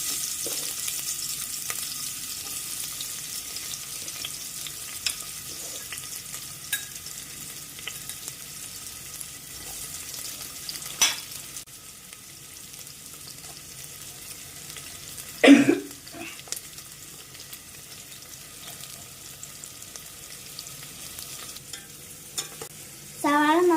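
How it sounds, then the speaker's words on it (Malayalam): Sliced onions fry in hot oil in a home kitchen, with a low continuous sizzle broken by occasional scraping stirs and a louder clatter midway. "ഇനി നമുക്ക് സവാള ഇട്ടെടുക്കാം എണ്ണ ചൂടാവട്ടെ"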